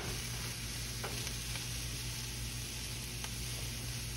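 Onions fry in a single skillet with a steady, soft sizzle that runs without a break and stays fairly quiet throughout.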